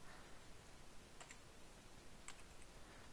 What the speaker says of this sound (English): you can type in an artist up here